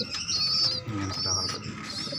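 Pigeons in a loft give soft, low cooing calls close by, with a few high chirps and light rustling over a short stretch.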